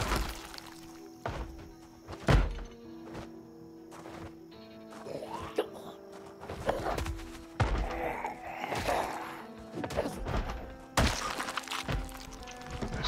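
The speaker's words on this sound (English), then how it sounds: "Somebody's trying to get in or out of somewhere. Oh, they're attacking the walls." Zombies pounding on walls in Project Zomboid: irregular heavy thuds and cracking impacts, some loud and sharp, others duller, spread across a low ambient hum with no talking.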